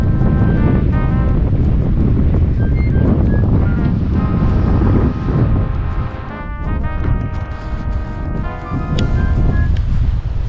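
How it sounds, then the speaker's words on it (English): Wind buffets the microphone at Shark's Tooth Beach in Venice, Florida, a loud, constant rumble mixed with the wash of surf, while a faint melodic tone drifts in the background. "Finally made it to our first beach. We're in Venice right now. This beach is called Shark's Tooth Beach."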